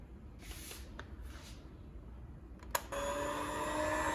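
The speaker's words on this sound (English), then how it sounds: "Or you can knead using a mixer. I'm using a handheld mixer." A handheld electric mixer starts up at low speed kneading homemade bread dough, a steady whirring motor drone beginning about three seconds in after quieter handling noises, fairly close and continuous.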